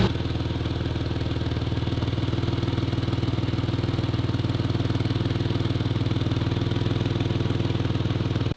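A rebuilt Porsche engine runs steadily at idle nearby, a loud, even low-pitched chug with a faint rattle that holds unchanged throughout.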